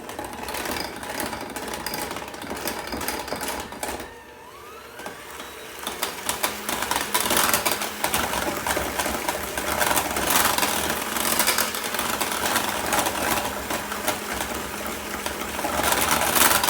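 An electric mixer beats pineapple upside-down cake batter with a loud, steady whir that dips briefly around four seconds, then runs on unbroken to the end.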